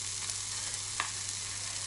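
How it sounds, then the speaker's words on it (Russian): Oat pancakes with fried onion sizzling in a pan over medium heat, a steady soft frying hiss with faint crackles and no talk. "И так постепенно будут жариться"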